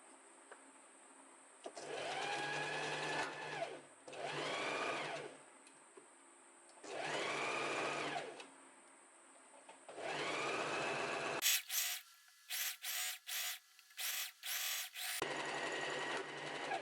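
A sewing machine stitches the side seams of a summer dress in several sustained bursts of whirring, first longer runs with pauses between, then a series of short rapid stop-start spurts near the end, close and clear with no talking.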